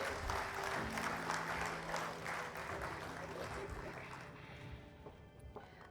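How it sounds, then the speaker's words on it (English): Clapping from the crowd at the 15th Vishwakarma Awards 2024 ceremony, a broad burst of applause that is strongest at first, then thins and fades out toward the end as a low hum and a steady tone run underneath. "Can we hear a huge round of applause for the female representation over here?"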